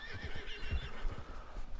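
A horse in the Red Dead Redemption 2 game whinnies loudly while hooves clip-clop as it flees, steady and close throughout with no talk.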